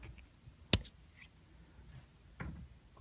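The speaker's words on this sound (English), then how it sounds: "You might need a little bit heavier scissors to cut pipe cleaner." A pair of scissors snips through a pipe cleaner while crocheting a pumpkin, giving one sharp, close cut followed by a softer second snip against a quiet room.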